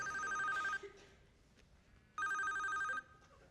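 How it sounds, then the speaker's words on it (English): A mobile phone rings in two loud electronic bursts separated by a short pause, the second burst as long as the first, with no talk over it. "Oh, and there's mine ringing right now."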